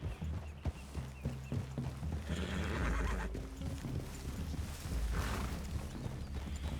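Horses whinny loudly amid the clatter of hooves and shuffling movement in Red Dead Redemption II, a busy close-up scene with no talking.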